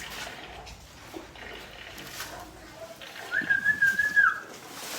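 A person whistles to call goats to drink water in a village. Soft rustling and faint background sounds come first, then a short, bright, wavering whistle rises near the end, fairly close and louder than the surroundings.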